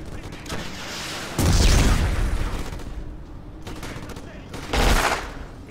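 Gunfire erupts in the shooter game Black on hard mode, with heavy bursts around two points standing out over a continuous rumbling backdrop of shots and battle noise, close and loud.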